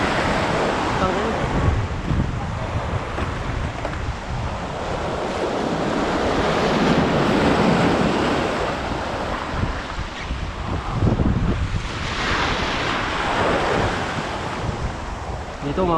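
Strong ocean surf pounds the shore in repeated heavy surges, loud and close, with gusty wind buffeting the microphone between crashes.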